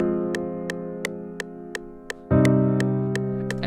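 Held piano chords with a steady ticking click, the next chord arriving just ahead of the beat for a pushed, anticipatory feel; a louder, fuller chord lands late and sustains, alone without talk.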